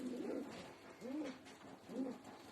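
Pigeons coo inside a breeding loft, with three soft, rounded calls spaced about a second apart, fairly close and quiet, over a low room hum and no talking.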